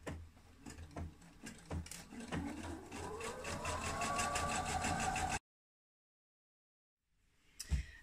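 A sewing machine runs fast and steady while stitching a seam on a shirt, its motor pitch rising as it speeds up, then it stops abruptly into silence before a brief faint handling sound.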